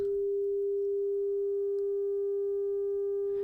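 A steady, clean electronic sine tone holds evenly throughout, with faint higher harmonic overtones from a saturation plugin stacked above it and no other sound.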